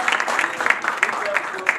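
An audience claps for a public official in a steady, dense patter of applause that runs throughout. Voices are faintly mixed in underneath.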